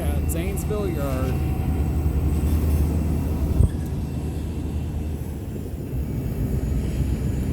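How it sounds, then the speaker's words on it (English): Ohio Central Railroad SD40-2T tunnel motor locomotive 4027 throttling up to notch 8 at Zanesville Yard, a steady loud low diesel drone with a brief thump partway through, running continuously throughout. "Ohio Central Railroad 4027 tunnel motor going to notch 8 here at Zanesville Yard."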